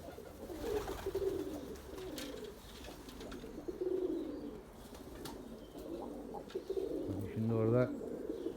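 Pigeons in a small cramped coop coo repeatedly in low, throaty rolls, fairly close and steady, with a louder burst of cooing near the end over faint background noise.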